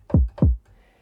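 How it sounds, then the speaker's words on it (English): A punchy electronic kick drum sample for a pop production hits twice in quick succession, each a deep booming thump with a fast downward pitch drop, clean and close with nothing else. "Here's the kick I selected."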